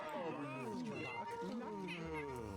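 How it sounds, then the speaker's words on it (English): A cat meows in The Sims 3, a few drawn-out, pitch-bending calls mixed with voices and game sounds throughout. "Oh, I like that cat."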